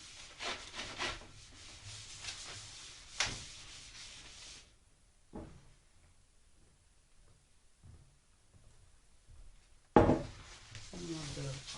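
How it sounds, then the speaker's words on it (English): Hands spreading olive oil across a pizza pan for homemade grandma-style pizza make soft, close rubbing and scraping strokes in bursts, then a quieter stretch, ending with a sharp pan clank and renewed rubbing. "And spread some olive oil on here."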